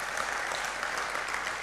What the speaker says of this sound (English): let's give him a round of applause for an excellent presentation